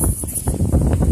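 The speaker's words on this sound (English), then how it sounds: "Wind blowing. How's that wind blowing?" Wind blowing outdoors at a survival camp, buffeting the microphone with a loud, rough, continuous rumble and gusty rustle through the whole short moment, with no clear speech.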